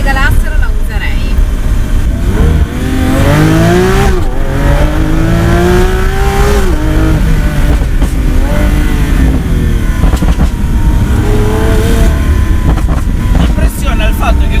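A Lamborghini Aventador S driving in city traffic, its engine a steady loud drone with rising and falling revs throughout, while people talk over it inside the car.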